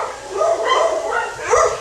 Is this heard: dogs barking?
yes